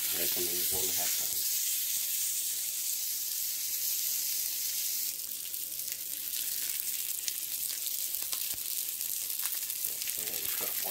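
Hamburger meat sizzles steadily in a hot pan, a loud, close, continuous frying hiss with a few sharp crackles and pops, intensifying slightly midway.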